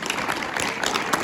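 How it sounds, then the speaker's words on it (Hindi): Applause rises from an audience at a drug awareness program held in a boys' higher secondary school. The burst of clapping is brief and fairly loud, with scattered sharp claps over a continuous wash. "जो इन्होंने शुरू की है कमल जी ने, उनके लिए मैं आप सभी को बोलूंगा जोरदार तालियां लगाएं"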